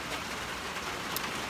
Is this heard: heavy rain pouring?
yes